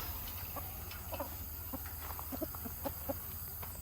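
Chickens on a small homestead cluck in short, scattered bursts, faint and a little distant over a steady low background hum.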